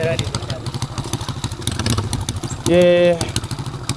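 A motorcycle engine runs close by with a fast, throbbing putter that swells into a louder, steadier drone for a moment before settling back.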